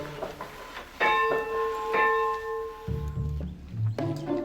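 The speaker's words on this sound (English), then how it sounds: "Is it a proper church bell?" A heavy church bell rung by pulling its rope: two loud strikes about a second apart, each leaving a bright ringing hum that fades out, followed by rustling and handling noise.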